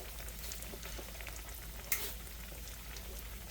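Parmesan chicken fries in a pan over medium heat, giving a steady, even sizzle throughout with one brief clatter partway through.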